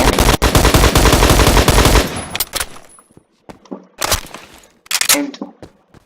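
Rapid DMR or battle rifle fire in Phantom Forces: a tight, loud volley of fast shots for about two seconds, then scattered single cracks and short bursts separated by quiet gaps.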